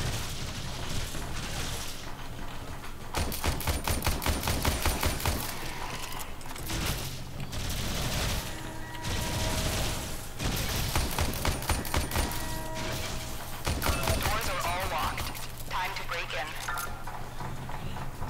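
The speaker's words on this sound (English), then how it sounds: "Cause somebody's shooting me from somewhere and I have no idea where." Gunfire in the sci-fi ninja video game Warframe, repeated rapid bursts and volleys of shots separated by short pauses, with a player talking over parts of the action.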